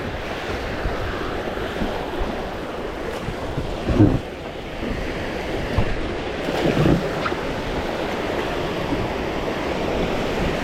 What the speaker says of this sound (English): Thank God the waves aren't that big.